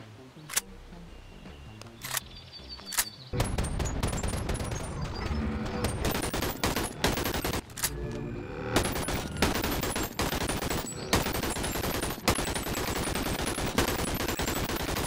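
An AKM rifle fires in the video game BoneLab: a few isolated shots with mechanical clicks, then long stretches of rapid, loud automatic bursts with a brief pause partway through.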